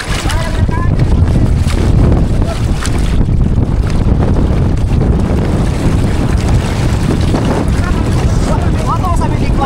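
A boat engine runs out on the water as a loud, continuous drone, mixed with heavy wind buffeting and wave wash, while voices call out over it.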